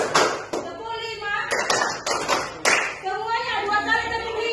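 A classroom of students claps out a rhythmic pattern, with bursts of group clapping between stretches of voices talking and chanting, close and fairly loud.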